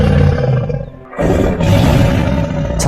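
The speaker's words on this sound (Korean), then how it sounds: "굴 밖에서 사나운 호랑이 울음소리가 들렸다" A fierce tiger roars outside a cave at night, a loud, deep, rumbling roar that breaks off briefly and then surges back with equal force.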